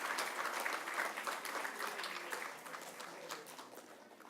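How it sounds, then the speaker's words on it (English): A crowd at an All India Radio awards ceremony applauds the winners with sustained, fairly distant clapping that gradually softens toward the end. "Let's give a huge round of applause to all the winners."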